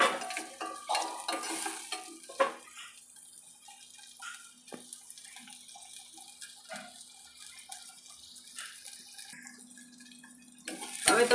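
Onions, tomatoes and chillies cook slowly on low gas in a pan, giving a soft, quiet sizzle with occasional stirring scrapes and clinks, close by.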